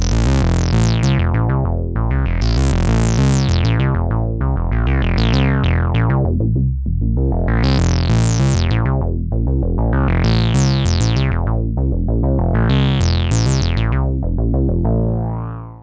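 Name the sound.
synthesizer arpeggiator pattern with rests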